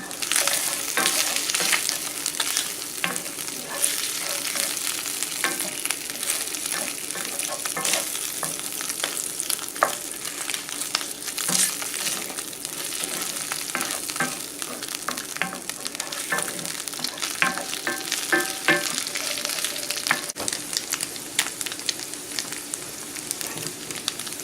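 Food sizzles and fries in a hot pan while being stirred during cooking of lobster mac and cheese, a steady crackling hiss with scraping stir strokes, close and continuous without talk.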